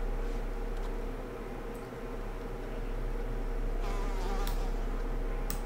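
A bee buzzes continuously in Lord of the Rings Online, a steady droning hum that swells slightly and holds loud and close throughout, with no talk.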